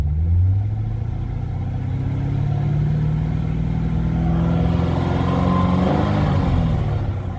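A 2008 Chevrolet Corvette Z06 505 hp engine revs up steadily to about 3,000 RPM, the low drone climbing in pitch and holding at a raised, loud idle with no talking.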